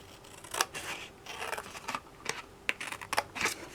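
Scissors snip through card paper for a handmade greeting card, with a quick series of close, crisp cuts in an irregular rhythm and no talking.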